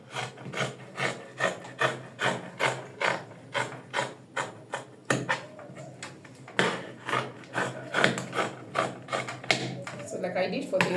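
Scissors cut out fabric for a crop top sleeve, making steady, rhythmic rasping snips up close, roughly two per second, with a brief pause midway before the cutting continues.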